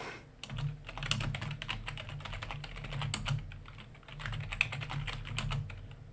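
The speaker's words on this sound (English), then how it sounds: "you will also hear whenever I click something, wherever I type something" Slow, unhurried typing on a computer keyboard during a programming session, scattered close key clicks over a steady low background hum.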